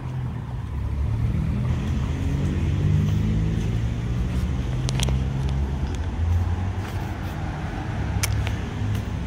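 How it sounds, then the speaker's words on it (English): A Ford Mustang GT drives past on a Beverly Hills street, its engine note swelling and fading over steady traffic noise, with a few sharp clicks along the way. "A Ford Mustang GT."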